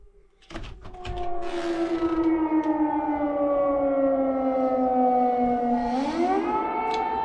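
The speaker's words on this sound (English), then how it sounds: "Some more air sirens." Air raid sirens wail over a Russian border region, one long loud tone sliding slowly downward in pitch and then swinging back up near the end, sustained without pause.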